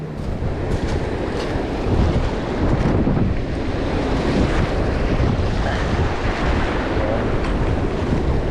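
Strong, steady wind at a river mouth buffets the microphone in a continuous rushing roar, with a low rumble underneath and no clear gusting pauses.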